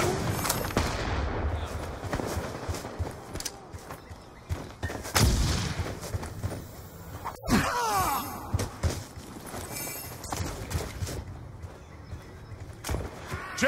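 Gunfire in a first-person shooter video game: scattered sharp shots and short bursts, one especially loud crack near the middle, over busy game effects with little talk.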